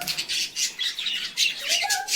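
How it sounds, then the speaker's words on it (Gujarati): A parrot squawks repeatedly in harsh, raspy bursts, close by and fairly loud, with a short whistled call near the end. "મીઠું પોપટ બોલ હા બોલે છે"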